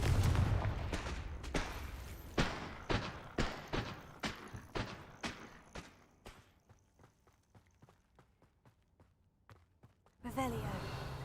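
Confringo spell blasts in the video game Hogwarts Legacy: a rapid series of sharp, punchy impacts repeating every half second or so, fading gradually in strength, then a louder burst near the end.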